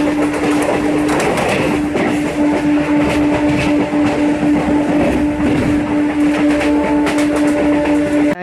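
A Gujarat Express train rolls through a large railway yard with a loud, continuous rumble of wheels and carriages, a steady tonal whine running over it and occasional clattering from the track throughout.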